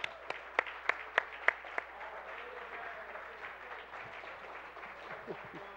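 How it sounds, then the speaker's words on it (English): A handful of sharp claps at the start, then a softer, steady patter of audience applause at a speedrun event, continuing at moderate distance. "Give him a round of applause for that amazing Contra run."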